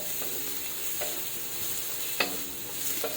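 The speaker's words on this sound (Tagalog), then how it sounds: "halu-haluin lang natin ito hanggang sa lumabas yung aroma or medyo matoasted ng konti yung ating bawang" Garlic sizzling steadily in hot oil in a pan while being stirred, with a few soft scrapes of the utensil standing out over the constant close frying hiss.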